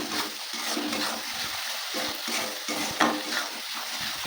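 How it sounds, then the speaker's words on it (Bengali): Spice paste with salt and turmeric powder stir-fried in a pan for a shrimp and fig curry: a steady sizzle with frequent scraping and stirring strokes, close and fairly loud, with no voice. "লবণ দিয়ে দেবো, হলুদ গুঁড়ো। মশলাটা ভালো করে কষিয়ে নিতে হবে।"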